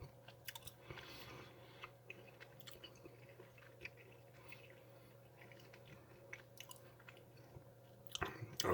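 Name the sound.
chewing jelly beans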